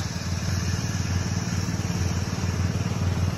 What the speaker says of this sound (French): elle est en train de passer la tondeuse